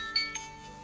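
A mobile phone ringtone sounds as a couple of brief, faint electronic tones in quick succession, quiet and short-lived.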